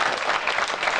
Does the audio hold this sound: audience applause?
yes